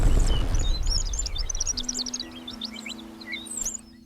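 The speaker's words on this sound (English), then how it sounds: "Anna's Hummingbird." Anna's hummingbird in a Mexican mountain garden gives a run of thin, high, rapid chirps and squeaky notes, with a low steady hum underneath and a faint rumble at the start.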